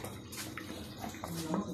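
Water poured into a bowl of chopped onion and finely cut potato for pakora batter, a soft trickling splash under a low background hum.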